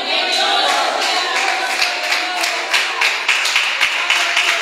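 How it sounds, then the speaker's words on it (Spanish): Two women in a church congregation clap during a sermon, producing a dense, continuous patter of hand claps with sharper individual slaps near the end, with no talking over it. "Dios bendiga a esas dos hermanas que están aplaudiendo."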